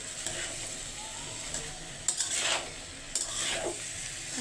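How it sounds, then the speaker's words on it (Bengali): Potatoes fry in a home pan, with a continuous soft sizzle and a few louder bursts of stirring and utensil scrapes, no talking. "মাগরিবের সময় আমি একটু আলু ভাজি করে নিচ্ছি।"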